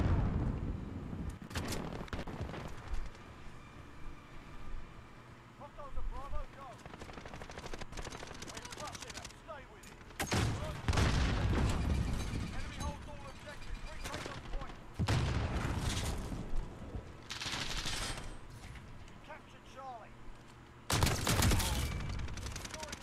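Gunfire in Call of Duty Modern Warfare, rapid automatic bursts and heavier blasts that come in loud clusters between quieter stretches, with a player talking over parts of the fighting.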